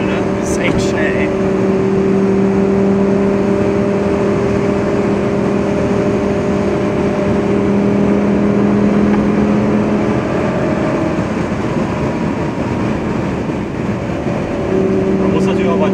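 Lamborghini Gallardo at high speed around 260 km/h, heard from inside as a loud, steady engine drone with road and wind roar and strong tonal hums throughout, while people talk in the cabin.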